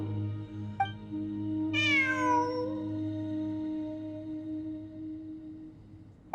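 A cat in the video game Genshin Impact gives one clear, drawn-out meow with a falling pitch, heard close and alone over a steady hum of game ambience and background music.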